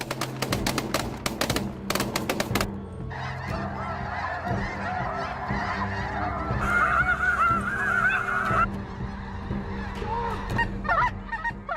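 A flock of snow geese honks loudly and busily, first with a few sharp clicks or taps, then a thick, overlapping chorus of calls that swells and continues nearby throughout, with no one speaking.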